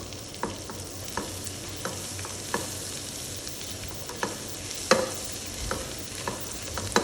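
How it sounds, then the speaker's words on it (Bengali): Whole spices (cinnamon stick, cloves, peppercorns and mace) frying in a pan for butter chicken, a steady close sizzle broken by regular scraping stirs and small pops, with no talking. "এটাকে একটু ভেজে নিচ্ছি"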